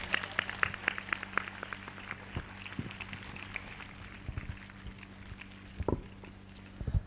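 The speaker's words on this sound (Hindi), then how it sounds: "ताली बजाकर धन्यवाद करें।" A congregation at a Hindi-language Christian prayer service claps hands, producing scattered, fairly faint patter-like claps with a few louder strikes.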